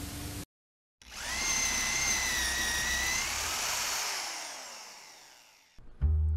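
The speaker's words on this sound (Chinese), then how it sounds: "那个吵死人的电钻声" A loud, high-pitched power drill whines in the horror game Power Drill Massacre, starting suddenly after a brief silence, holding steady for several seconds, then fading away.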